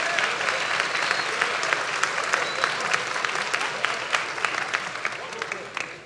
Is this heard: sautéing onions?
no